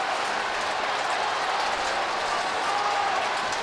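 Football crowd at the MCG during an AFL match, a dense wash of cheering and applause from many fans, heard at a distance and sustained without a break.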